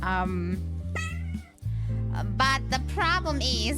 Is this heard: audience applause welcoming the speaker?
no